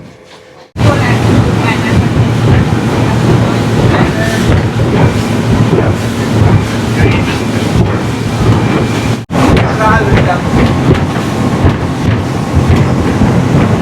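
A small boat's engine drones loudly and steadily at sea near Oman's Daymaniyat Islands, with wind buffeting the microphone and rumbling, clattering motion underneath, after a brief quieter moment at the start.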